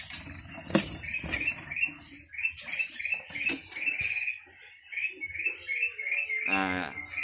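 Caged birds chirp and trill at an Indonesian bird market, a busy chorus of repeated high calls and tweets continuing throughout at moderate distance, with market bustle underneath.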